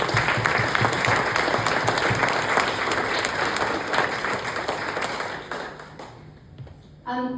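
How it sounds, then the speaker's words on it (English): Applause from an audience at an awards evening, loud and dense at first, then thinning and fading toward the end before a short final burst of sound. "please give them all a round of applause."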